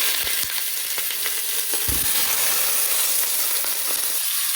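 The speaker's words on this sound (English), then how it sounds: "On a high heat, sear the meat." Beef sears loudly over high heat in a hot pot, a dense, steady sizzle with occasional pops and scraping stirs, close up and without talk.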